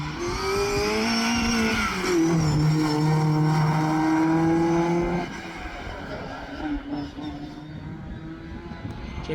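A Lotus Cortina saloon spins at a Scottish sprint championship, engine revving hard with a rising and falling whine and some tyre squeal. After about five seconds the engine note drops to a lower idle-like drone.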